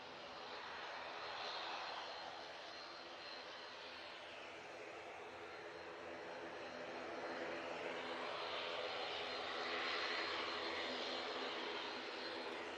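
An ATR turboprop aircraft taxiing forward at Manchester Airport, a continuous engine and propeller drone that rises and swells slightly toward the end, steady and moderately loud, with no talk.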